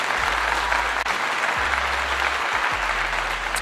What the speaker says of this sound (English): this is a clap for you